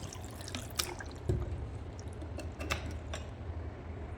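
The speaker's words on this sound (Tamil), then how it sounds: "கொஞ்சம் தண்ணி ஆட் பண்ணிக்கிறேன்" Water is added to a mixer grinder jar in a kitchen: a quiet run of splashes and trickling, broken by a few sharp drips and clinks against the jar.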